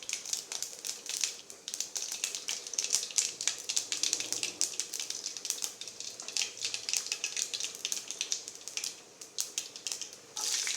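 Mustard seeds sizzle and pop in hot oil in a home kitchen, a close, fairly quiet crackle of sharp spits and small bursts that goes on steadily with no one talking.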